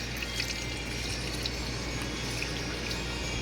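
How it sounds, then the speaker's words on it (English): Dex-Cool coolant pours out of a turbo four-cylinder Camaro engine with a continuous faint splashing trickle and scattered small drips, no talking. "Got that Dex cool pouring out everywhere."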